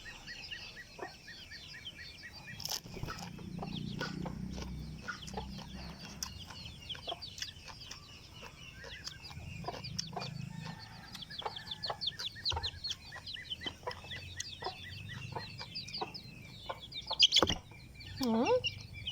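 Chickens cluck and chirp in repeated short bursts from nearby, with scattered clicks and knocks and a louder squawk near the end, set against quiet outdoor background.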